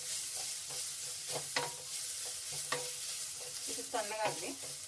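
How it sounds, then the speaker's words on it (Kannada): Coconut pieces fry in a pan with a steady sizzle, while a spoon scrapes and stirs every second or so with clear intermittent clinks. No one speaks. "ಸ್ವಲ್ಪ ಕಾಯಿ ಚೂರು ಹಾಕ್ತಾ ಇದ್ದೀನಿ. ಇಷ್ಟು ಹೆಚ್ಚು ಸ್ವಲ್ಪ ಫ್ರೈ ಮಾಡಿದ್ರೆ ಸಾಕು,"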